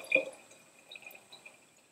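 Sugar syrup for feeding bees poured into a partly filled quart jar of water, heard as faint dripping and trickling with a few soft splashes and liquid plinks.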